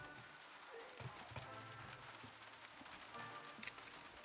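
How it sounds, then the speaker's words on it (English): Steady rain falls in the Far Cry 6 video game, a continuous broadband hiss of drops on surfaces with a few faint thuds and footstep-like sounds mixed in throughout. "Oh, it has started raining, guys."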